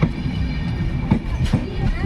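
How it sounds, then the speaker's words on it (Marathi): A train on the Mumbai to Khed route rumbles along close by with a low, steady rolling clatter, and a voice speaks briefly over it. "आणि ट्रेन चालली आहे"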